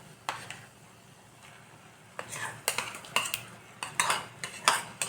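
Cooked dal is added to a banana stem curry and stirred, starting with a few scattered clinks, then a burst of close spoon scrapes and knocks against the pot in an uneven rhythm.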